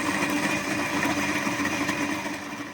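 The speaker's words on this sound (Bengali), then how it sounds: "এখন মশলাটা বেটে নিচ্ছে" Spice paste being ground in an electric kitchen grinder, a steady motor whir held at even loudness throughout, with no talking.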